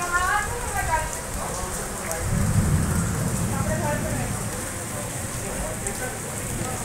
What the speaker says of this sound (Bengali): খুব ভালো লেভেলের একটা বৃষ্টি হচ্ছে